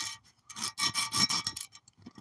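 A copper penny scraped against a rough surface, giving a close, gritty rasping sound in several quick strokes that grow louder, then trail off into a few faint scrapes.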